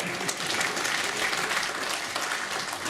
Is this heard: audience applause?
yes